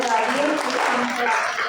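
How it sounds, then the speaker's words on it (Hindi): Clapping from an audience at a Hindi Diwas celebration after a quiz competition, a brief soft patter of applause mixed with voices in the room. "तो तालियां"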